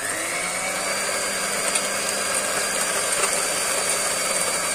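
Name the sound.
electric mixer beating cake batter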